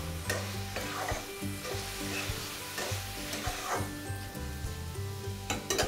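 Boiled masoor lentils being stirred with biryani masala in a pan, a steady scraping and stirring with a soft sizzle running underneath throughout, close and moderately loud.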